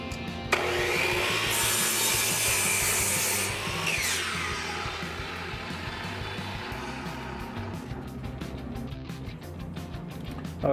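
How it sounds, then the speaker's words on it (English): Chop saw cutting through wood for a hatchet handle, a loud, close, harsh grinding whine that holds steady for several seconds, then eases into rasping and scraping as the cut finishes. "we're just going to cut that in the chop saw"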